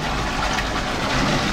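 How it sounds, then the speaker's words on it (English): Water running steadily into a calf feed tank in a calf house, a continuous close rushing and gushing flow, loud and unbroken with no talk. "You see the water's running."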